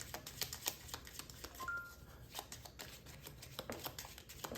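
Playing cards being shuffled during a tabletop card game, a quiet run of rapid riffling flutters and soft snaps repeating in quick bursts, close and alone without talk.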